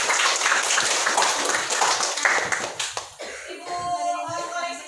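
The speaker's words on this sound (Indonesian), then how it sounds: "Kita tepuk tangan dulu untuk kita semua." A classroom of students applauds with a dense, steady burst of hand clapping for about three seconds, then it stops and a teacher's voice speaks.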